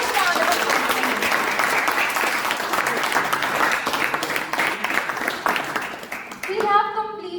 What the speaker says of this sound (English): Everyone, a huge round of applause